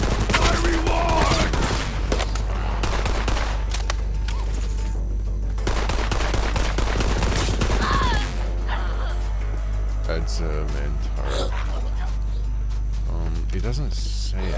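A minigun in the video game Borderlands 3 fires a long, dense fusillade of rapid shots, loud and sustained for about eight seconds. Further game effects and chatter follow, with a voice talking over the action.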